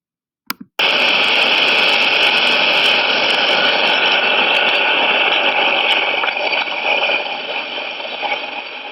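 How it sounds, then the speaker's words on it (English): A small motor oscillating a string starts abruptly after a couple of clicks and runs as a steady, loud, close buzzing whine that holds for several seconds and then wavers slightly. "this is a motor that's oscillating the string"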